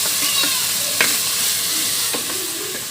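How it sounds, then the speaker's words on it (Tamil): Ginger garlic paste frying in hot oil sizzles loudly and steadily, broken by several short scraping strokes of a spoon stirring the pan. "இப்போ இஞ்சி பூண்டையும் இந்த ஆயிலே வந்து நல்லா கிளறுங்க."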